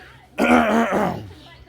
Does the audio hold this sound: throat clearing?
yes